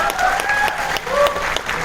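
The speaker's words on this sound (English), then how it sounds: "Applause for her." Audience at a film world premiere at IFFI Goa claps warmly and steadily, with scattered voices and a few whistles or cheers rising over the crowd.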